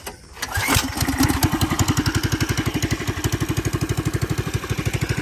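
A Honda Odyssey FL250 cranks briefly on its electric starter, then catches and settles into a loud, steady, evenly pulsing single-cylinder idle close by.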